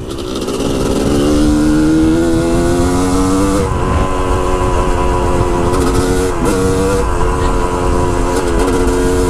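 A dirt bike fitted with a Lectron carburetor accelerates hard and loud, the engine note climbing steadily through the gears before brief throttle dips and another pull.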